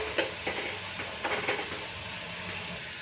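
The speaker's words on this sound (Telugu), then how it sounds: "ఇప్పుడు ఆయిల్ కాగుతుంది కదా, దీంట్లో మనం కొంచెం కాకరకాయలు వేసి ఫ్రై చేయాలి" Bitter gourd pieces fry in hot oil in a pan, giving a constant broad sizzle with occasional soft clinks and stirring scrapes, moderately quiet and close.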